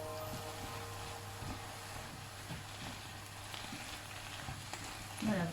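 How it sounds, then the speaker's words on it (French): A vegetable filling seasoned with herbes de Provence and cumin simmers in a pan, giving a soft, even, low sizzle with a steady background hum and a brief clunk near the end. "on laisse mijoter un petit peu le temps que la pâte cuise"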